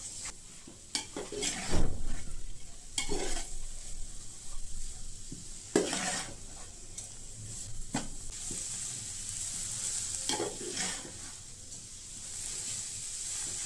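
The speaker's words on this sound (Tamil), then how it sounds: "இப்போ நெய்யிலே இது நல்லா வதங்கணும்." Bottle gourd sautéing in ghee in a pan, with a steady soft sizzle broken by several louder scraping stirs of a spoon against the metal, close and without speech.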